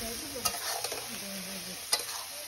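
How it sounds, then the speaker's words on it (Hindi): Dry ground spices being stirred in a frying pan for a quick petha (ash gourd) curry, a soft steady sizzle with a few sharp scraping clinks of the spoon against the pan, no voices. "इस सूखे मसाले को पूरी अच्छी तरीके से घुमा के और मिक्स करना है"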